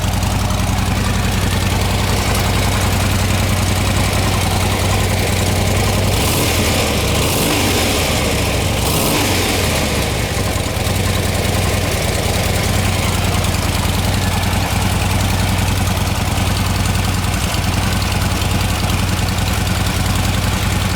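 Stock-exhaust Harley-Davidson motorcycle engine idling steadily up close, a low mellow rumble with a brief louder swell midway, no voices.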